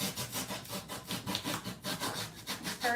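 Hand tool scraping and carving a spray foam nativity figure up close, with steady, rapid back-and-forth rasping strokes.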